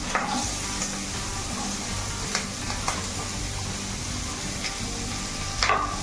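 Onions with bay leaf and green chillies fry in a pan for bhindi masala, a steady close sizzle broken by a few sharp scraping stirs, with no talking.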